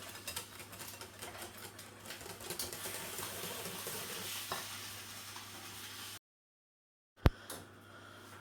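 Cherries being stirred into cake batter with a spoon in a bowl, giving a close, soft scraping and sloshing texture that runs steadily for several seconds, then breaks into silence before a single sharp tap.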